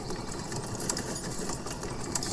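A self-moving train coach rolls along in the Roblox game Sodor Online, giving a steady, close mechanical rattle and hum with small irregular clicks, and no voices.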